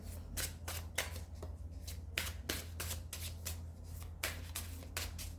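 Tarot cards are shuffled and drawn by hand in a rapid series of soft riffling snaps and slaps, close and fairly quiet over a steady low hum, with no talking.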